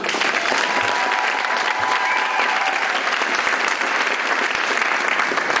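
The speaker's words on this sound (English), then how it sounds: "Round of applause for Matt." At a spring choral concert, the audience gives the drummer a round of applause, a loud, dense and steady clapping that carries evenly from start to finish with faint voices beneath.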